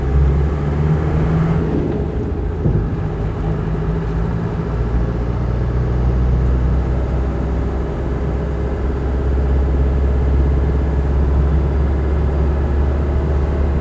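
A Land Rover 90 with a 2.5 TD diesel engine drives along, giving a steady low rumbling drone with road and cabin noise, heard from inside at an even level without talking.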